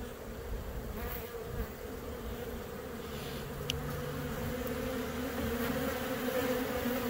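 Honey bee swarm buzzing steadily and close throughout, a dense continuous hum with no voices, gathered around beekeepers catching the swarm.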